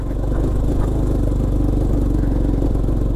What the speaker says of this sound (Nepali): क्लच प्लेट फेरिसकेपछि तिनवटा स्पार्क प्लग नयाँ हालिसकेपछि बाइकको पर्फर्मेन्स